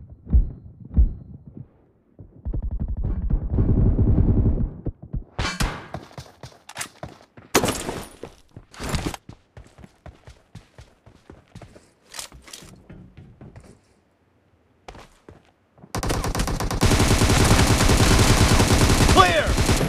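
PUBG gunfire comes in sharp, loud bursts and single shots separated by quiet gaps, with heavier sustained firing at the start and a long dense barrage near the end.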